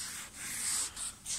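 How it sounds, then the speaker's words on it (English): Wet sandpaper rubbing over a cellulose-painted car panel in steady diagonal strokes, a soft continuous hiss that swells and dips with each pass, close and alone. "So I'm gonna wet that in my bucket and just start sanding."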